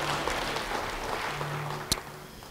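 A church congregation applauds, a soft, diffuse wash of clapping that sounds distant and even, fading slightly, with a single sharp knock near the end.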